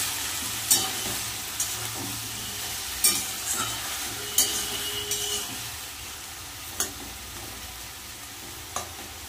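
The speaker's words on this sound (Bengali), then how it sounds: "এবার দিয়ে দেবো পুঁই শাকটা, আমি যে একটু ভাপিয়ে রেখেছি সেটা দিয়ে দেবো।" Potato, pumpkin and steamed Malabar spinach fry in a pan with a steady low sizzle and occasional sharp clinks of a spoon stirring, no voices.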